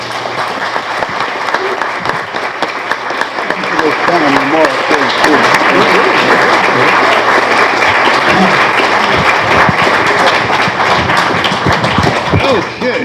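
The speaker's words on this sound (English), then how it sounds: "let's just close with a round of applause for our panelists and our moderator" Audience at a writers' hall of fame salon applauds panelists and a moderator, clapping building from a lighter start into loud, sustained applause with scattered thumps and voices mixed in.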